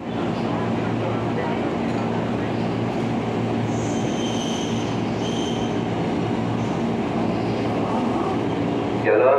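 A commuter train runs through busy Tanah Abang station in Jakarta at evening rush hour, with a steady rumble and faint wheel squeals over continuous ambient noise and distant announcements.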